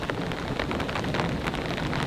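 Heavy rain from Hurricane Debby pounding down around an off-grid cabin, a steady dense hiss of drops drumming on surfaces with a low rumbling undertone, continuous and close.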